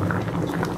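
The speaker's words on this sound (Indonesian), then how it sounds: "Jika sudah mendidih seperti ini jangan ditinggal dan terus kita aduk ya sampai menyusut airnya" Water boiling in a cooking pot on a gas stove while making lontong filled with tempeh, a continuous close bubbling and rumbling with no voices.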